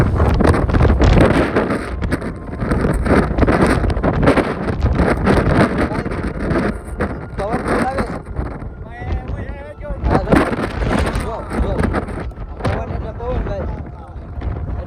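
Steady wind roars and buffets the microphone outdoors on Girnar mountain, Junagadh, loud and gusty throughout, with voices talking underneath.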